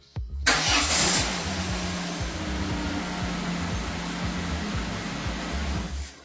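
A Peugeot 206CC engine starts: a short crank catches into a loud rev, then settles to a steady, close idle rumble, with no talking.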